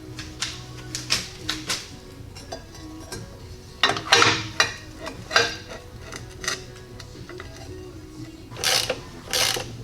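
Ratchet driving transmission mount bolts on a Jeep Cherokee: bursts of quick metallic clicking, irregular and close, separated by short pauses and occasional clanks of tools.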